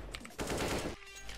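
Rapid automatic gunfire sprays in CS:GO during aim practice, a loud burst of sustained fire lasting about half a second between softer preceding shots and a fading tail.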